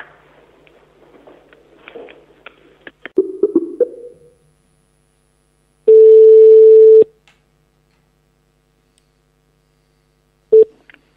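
Telephone rings on a radio call-in line: a single loud, steady electronic ring tone lasting about a second, then a brief second ring a few seconds later, following quieter rustling and clicks.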